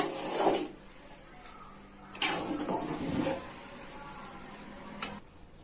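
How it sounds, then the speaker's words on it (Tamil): Chicken biryani, a 1 kg batch, being stirred in a pot, giving scraping, rasping rubs in a few bursts with quieter stretches between, close and moderately loud with no talk. "மூடி திறந்து பார்க்கலாம் ஓரளவுக்கு வெந்திருக்குதுங்க நல்லா ஒரு கிண்டி விட்டுருங்க"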